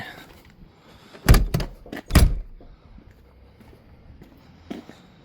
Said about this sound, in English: We have a locking door back here, opens up, gas struts on it